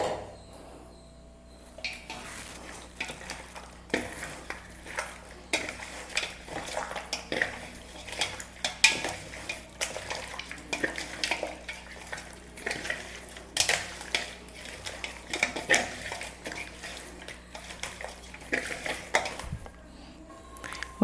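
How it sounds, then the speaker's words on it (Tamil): Quail pieces are mixed with masala in a bowl, giving irregular clinks, scrapes and soft wet squelches of a spoon or hand against the dish, close up and moderately quiet, with no talking. "இப்போ இதெல்லாம் சேர்த்து மசாலா நல்லா உள்ளெல்லாம் போகிற அளவுக்கு மிக்ஸ் பண்ணிக்கோங்க"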